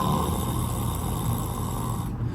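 A man imitates snoring with his voice, a low rasping drone held continuously for about two seconds, close and fairly loud.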